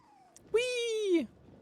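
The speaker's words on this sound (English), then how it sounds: "I'm trying to chase your cat." A single drawn-out meow from a cat in the video game Nioh 3, clear and close, lasting under a second.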